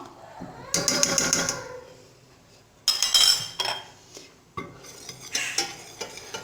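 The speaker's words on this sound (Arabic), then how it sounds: "كنبقاو نستمروا في التحراك" A spoon stirs homemade chocolate spread thickened with starch in a metal pot, scraping and clinking in several bursts with quiet gaps between them, close and clear.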